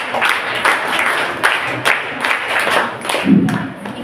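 Audience at a women's college annual event clapping in a steady, dense round of applause, with a few sharper individual claps and thumps standing out.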